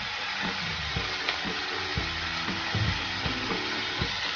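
A spatula stirs fenugreek leaves and salt in a frying pan, giving soft, repeated scraping strokes at a steady rhythm over a faint background sizzle, heard close and with no talk.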